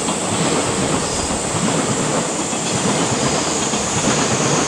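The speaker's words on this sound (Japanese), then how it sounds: "電車、音が全部カットされるんじゃん。" Train passing on rails, a loud continuous rumble and rush with faint clickety-clack and wheel squeal, steady throughout with no talking.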